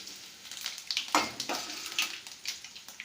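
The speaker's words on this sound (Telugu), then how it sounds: "ఇందులో కరివేపాకు కొంచెం వేసుకోవాలి." Curry leaves hit hot oil in a tempering for an eggplant-tomato curry over low flame, giving a close, crackling sizzle with sharp spits and pops that flare and subside over a few seconds.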